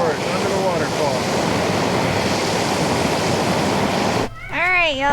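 Water rushing loudly and steadily beneath a waterfall along a hiking trail at Mirror Lake, a dense continuous roar that cuts off abruptly near the end as a voice speaks.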